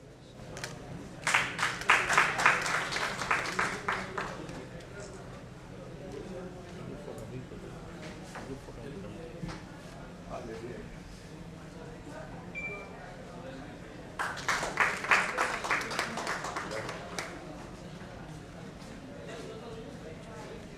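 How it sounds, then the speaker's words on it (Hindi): Audience at a Bihar literature festival session claps to welcome guests, two short bursts of applause a few seconds each separated by a quieter stretch of scattered claps and background murmur. "तालियों से हम अपने अतिथियों का स्वागत करें"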